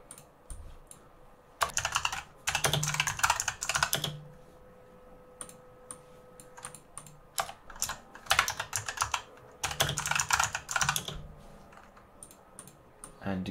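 Typing on a computer keyboard while entering ADB install commands, delivered in several bursts of rapid clicking keystrokes separated by short pauses, close and fairly loud against a quiet room.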